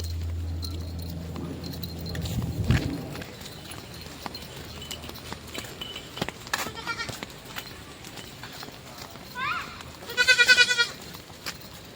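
Goats bleat in a village where livestock graze, a few short wavering calls near the end over faint hoof-like clops, scattered knocks and quiet ambient noise.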